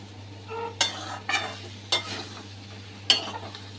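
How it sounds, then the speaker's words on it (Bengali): Boiled taro and potato sauté in a pan, a soft frying sizzle punctuated by several crisp spatula scrapes at irregular intervals. "দেখো ভালো করে কষিয়ে নিয়েছি"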